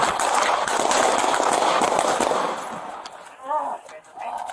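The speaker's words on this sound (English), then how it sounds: "Shots fired by the police." Police gunshots in Chicago, a rapid string of sharp cracks for about two seconds, followed by fainter noise and a brief tonal sound near the end.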